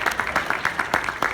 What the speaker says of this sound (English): Give Claire a huge round of applause.